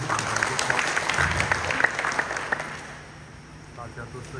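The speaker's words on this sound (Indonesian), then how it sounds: "Tepuk tangan untuk kita semua." Applause from a seminar audience gathered in a hall, a dense burst of clapping that carries for about three seconds and then fades, with a voice heard over it.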